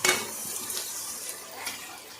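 Onions with turmeric are fried and stirred in a pan, giving soft scraping and clinking of a utensil against metal over a faint sizzle, close and quiet.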